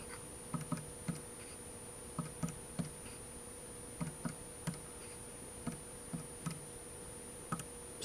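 Sparse button clicks on a graphing calculator as x and y values are entered, faint irregular taps in small clusters over a steady electrical hum.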